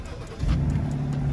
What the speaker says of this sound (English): first startup with the new muffler put back in and the resonator put back in.